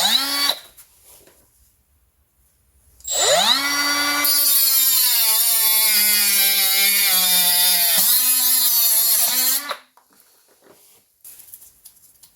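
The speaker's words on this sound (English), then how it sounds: "So we get the grinder and we cut it, and this is how you deal with this." Angle grinder cutting through a rusted wheel bearing part on a Renault Trafic, a loud sustained whine that rises as the disc spins up, holds steady for about six seconds under load, then stops, with quiet moments before and after.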